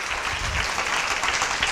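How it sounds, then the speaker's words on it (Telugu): A Sunday church congregation claps in worship, dense continuous applause that is loud and close and fills the whole stretch without pause. "చప్పట్లతో దేవుని కనపరుస్తా"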